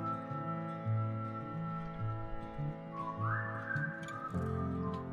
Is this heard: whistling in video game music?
yes